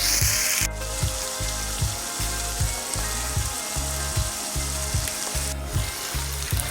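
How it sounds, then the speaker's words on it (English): Ground beef sizzles and fries steadily in a pan, a loud close crackle with a repeating rhythmic scraping thud as it is stirred throughout. "we're going to continue to cook our ground beef until it's brown all the way through"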